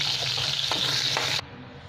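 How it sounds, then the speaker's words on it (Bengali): Rohu fish pieces rubbed with salt and turmeric frying in hot oil, a steady close sizzle with a few soft stirring clicks, cutting off abruptly near the end. "তেলের মধ্যে মাছগুলো ভেজে নেব।"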